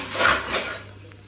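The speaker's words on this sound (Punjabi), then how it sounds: "ਪਹਿਲਾਂ ਭਾਂਡੇ ਧੋ ਲੈਣੀ ਆ" A brief clatter of pots, dishes and cutlery comes from dishwashing in a home kitchen, with a couple of close metallic knocks and clinks that fade within a second.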